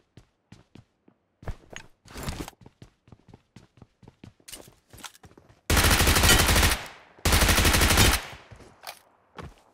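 Gunfire in PUBG Mobile: a steady run of single shots and scattered taps, cut by two long, loud bursts of automatic fire. No one speaks.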